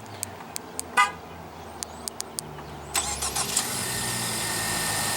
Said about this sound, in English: Fairly easy to do the remote engine start. Just click on this button 2 times.